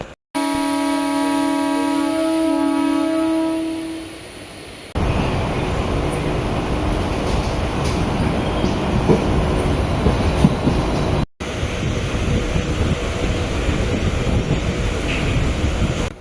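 A Chennai–Madurai MEMU electric train pulls out of Chennai Egmore, a steady tonal motor whine giving way to a loud, continuous rumble and rushing wind noise, with a brief dropout near the end.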